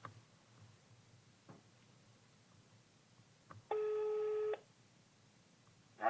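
A single telephone ring tone sounds for under a second over a quiet room with faint clicks, heard while a cold sales call is being placed.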